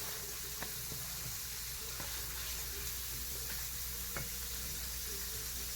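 Food browns in a pan over medium heat for pad woon sen, a faint even sizzle over a low steady hum, with a few light utensil ticks.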